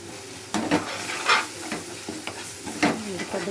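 Garam masala and coconut powder sizzle in hot oil in a pan, with a steady frying hiss and several sharp stirring scrapes of a spoon against the pan.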